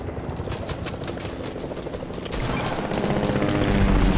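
Helicopter rotor chopping in the Fortnite battle royale video game, a loud steady thrum that swells closer toward the end, with bursts of gunfire mixed in.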